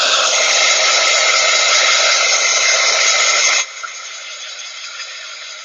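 A hair dryer blowing on freshly made artwork, a loud close steady roar of broadband air that suddenly drops to a much softer hiss partway through, likely switched to a lower setting.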